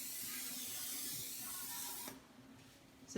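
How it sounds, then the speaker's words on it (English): Coconut cooking spray hisses steadily from its can onto a round baking pan for about two seconds, close and fairly quiet, then stops, leaving near silence. "So I have this coconut cooking spray or baking spray."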